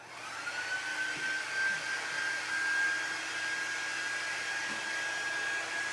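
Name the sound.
heat gun drying paint on wood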